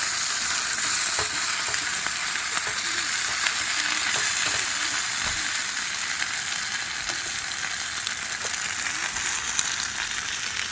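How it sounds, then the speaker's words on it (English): Steady, close sizzling of sausage and potatoes frying in a pan at a campsite, a continuous bright crackle with occasional faint clinks and no talking. "I love the sound of that sizzle."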